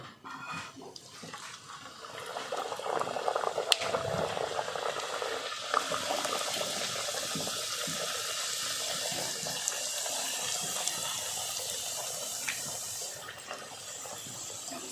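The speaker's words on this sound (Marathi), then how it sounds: "पुऱ्या सगळ्या लाटून झालेल्या आहेत आता तळून घेऊया" Beetroot puris deep-fry in hot oil, a steady bubbling sizzle that swells after a quiet start and then holds at an even, close level, with occasional small clinks and no talking.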